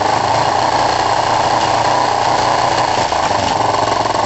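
Kawasaki ER5 motorcycle engine with a faulty carburettor running loud and close at sustained high revs, a dense steady buzzing drone with no pauses.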